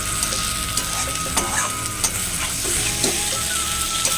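Egg curry with potato and cauliflower frying in a pan, a constant sizzle with stirring scrapes and clinks at intervals, near and alone.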